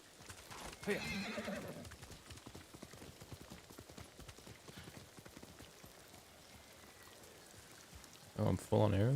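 A horse named Kage whinnies and trots in Ghost of Tsushima, hooves clopping steadily under light rain, with a neigh early on and another sharp cry near the end, and someone speaking in between.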